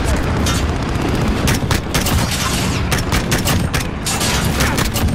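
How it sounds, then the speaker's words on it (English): Video game gunfire erupts in rapid, overlapping bursts of close, loud shots and crackling automatic fire, with dull booms mixed in, continuing for about five seconds. "Oh, I got shot at."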